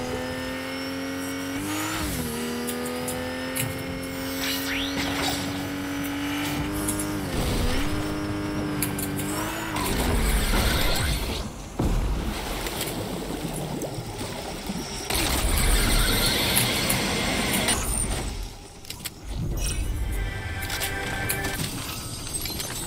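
Car in a battle royale video game driving with engine revving up and down in rising and falling pitch, loud and close, with rough gravelly road and tire noise in the later part.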